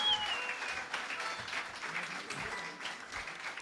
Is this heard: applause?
yes